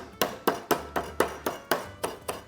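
Regular thuds of a meat hammer pounding chicken on a board, about nine evenly spaced blows, close and moderately loud.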